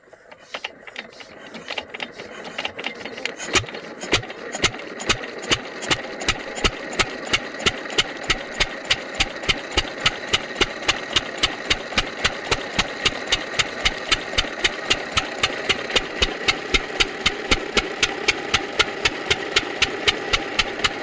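A boat engine runs steadily on the Bhavanisagar Dam reservoir, its regular rapid chugging knocks continuing evenly throughout, loud and close, with no voices.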